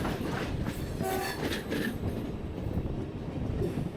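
SJ Nord overnight sleeper train running between Oslo and Trondheim in Norway, a steady loud rumble of rolling stock with faint tonal squeals and a brief horn-like tone, continuous throughout with no talk.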